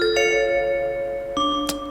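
Deep bell tones from the Sprunki Pyramixed Melophobia game ring out in two separate, resonant strikes, each with a long sustained tail, the second followed by a brief bright accent.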